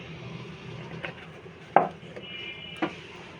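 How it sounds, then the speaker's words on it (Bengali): A utensil knocks and scrapes in a bowl while semolina batter with egg, sugar, salt and cooking oil is mixed, a few sharp clinks over a low background hum with no talk. "তো খুব ভালোভাবে মিক্স করে নেব সব কিছুর উপকরণ।"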